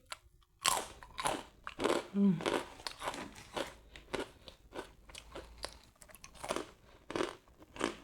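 Crunchy chicharon pork cracklings being eaten up close, with repeated loud crisp bites and crackling chews in an irregular rhythm, and no talking over it.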